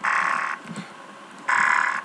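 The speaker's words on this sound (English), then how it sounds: "Damn alarm scared me." Alarm blaring in the multiplayer game The Hidden, two loud sustained electronic blasts separated by a short pause, with faint game noise between them.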